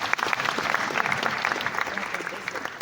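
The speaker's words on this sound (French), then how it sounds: "Est-ce qu'on peut l'applaudir, s'il vous plaît?" An audience at a business conference breaks into brisk, steady applause, many hands clapping densely and fairly loudly, with the odd voice murmuring underneath.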